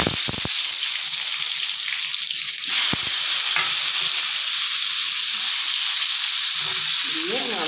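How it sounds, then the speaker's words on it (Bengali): Eggplant slices sizzle and crackle in hot oil in a wok, with a couple of sharp clatters near the start and the frying hiss continuing steadily. "কড়াইতে তেল রয়েছে এই তেলে বেগুনগুলো ছেড়ে"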